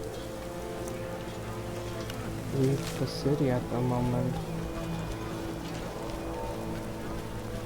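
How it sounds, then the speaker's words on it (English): Heavy downpour in The Witcher: Enhanced Edition, a steady broadband hiss of rain running throughout, with someone talking over it and a few louder tonal game sounds in the middle. "Real downpour."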